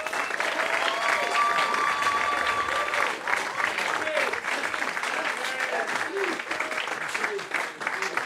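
Audience applause at a stand-up comedy show, a lively burst of clapping with cheers and whoops from the crowd that swells at first, then continues more unevenly as voices mix in.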